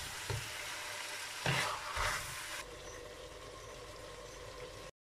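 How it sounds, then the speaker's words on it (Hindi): Zucchini and chana dal are stirred into hot spices in a pan, giving a loud continuous sizzle with a few scraping stirs early on before the frying settles into a steady hiss. "तो अच्छी तरह मसाले में मिक्स कर लें।"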